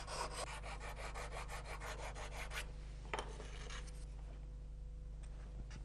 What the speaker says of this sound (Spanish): Con una lija que él mismo se ha preparado, el luthier repasa los bordes para que se ajusten bien a las tapas